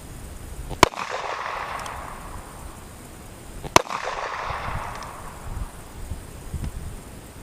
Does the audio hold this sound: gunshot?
yes